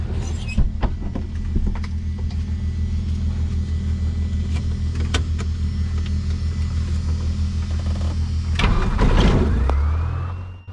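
Light aircraft piston engine and propeller at start-up during a flight lesson, a loud close low rumble with steady pulsing that swells near the end, then a sharp change as the engine catches and revs settle.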